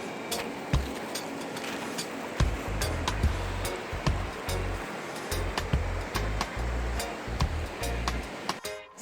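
River water flowing at a riverside cooking spot, a steady rushing wash broken by scattered knocks and bumps close by.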